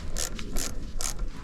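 Three quick ratcheting bursts as screws are snugged up on the pulleys of a Citroën BX engine, close and crisp with short pauses between, no talking.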